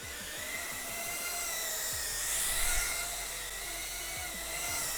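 Tiny motors of an HGLRC Petrel 65 1S micro drone spinning after arming, a steady high-pitched whine with shifting tones that swells briefly midway, close and unaccompanied.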